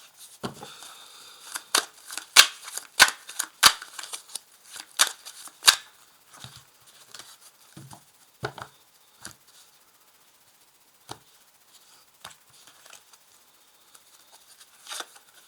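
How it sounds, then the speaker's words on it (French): Tarot cards shuffled and laid down one by one on a table, a burst of sharp riffling snaps early on, then sparse, separate soft taps and slides as cards are placed, close and clear with no talk. "Donc là, je place les cartes."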